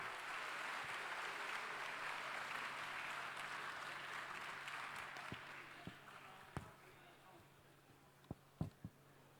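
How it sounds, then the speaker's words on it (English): An awards-ceremony audience at Formula SAE Michigan applauds the winning university teams, producing a broad, steady wash of clapping that gradually thins out, leaving a few scattered louder claps near the end. "Let's give them all a nice round of applause"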